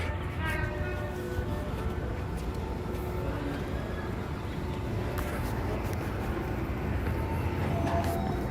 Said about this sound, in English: The little tram just left.